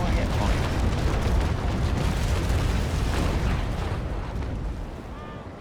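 Ship cannons booming in a naval video game battle between two USA ships and a pirate, a dense, continuous roar of heavy fire and rumbling explosions that slowly fades toward the end.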